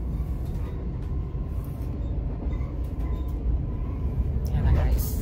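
Stockholm train standing at a platform, a steady low rumble and hiss of the carriages filling the scene, with people talking nearby and a bilingual announcement over the noise.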